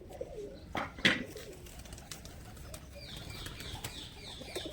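Pigeons flying down and landing, a couple of sharp bursts of wing flapping near the start followed by softer fluttering and faint cooing and chirps in the background.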